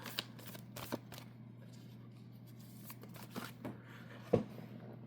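An alchemy oracle card deck being shuffled by hand, with soft riffling and rustling card sounds and a few sharper snaps over a steady low hum.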